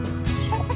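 Chickens cluck steadily close by, a busy overlapping chatter of several birds with no voices.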